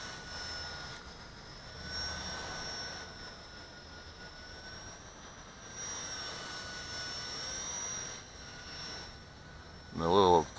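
A Blade 200 SR X radio-controlled helicopter with a three-blade tail rotor flies nearby outdoors, giving a steady high rotor whine that swells and fades as it maneuvers, with a short burst of speech at the end.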